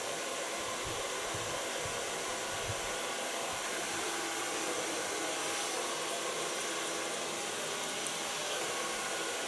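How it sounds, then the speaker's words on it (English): A hair dryer blows steadily on hair in a salon after oil treatment on a short clipper cut, a loud continuous whooshing drone that holds unchanged throughout with no talking. "Blow dry this."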